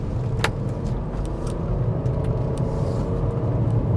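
A 2024 Nissan Murano SV with a CVT pulls away at about quarter throttle, giving a steady, moderate engine and road drone heard from inside the cabin, with no talk over it.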